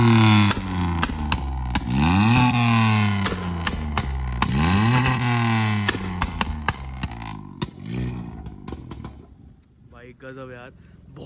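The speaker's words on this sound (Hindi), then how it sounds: "तो वो सुनाओ एक बार ये पॉप्स एंड बैंक्स" A loud German car engine with an aftermarket exhaust revs up and down repeatedly, with sharp crackling pops and bangs from the exhaust between revs, close by.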